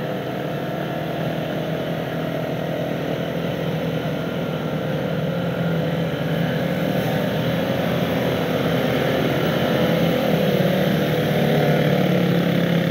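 A motorcycle engine drones steadily and loudly while climbing a steep mountain road during an elite cycling race in Dieng, its pitch holding strained and continuous throughout.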